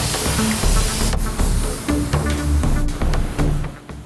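Spray gun laying base coat paint onto Subaru Forester XT parts in a paint booth, loud hissing bursts that start and stop in short passes, close up.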